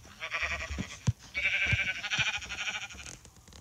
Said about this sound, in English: We have sheep as well.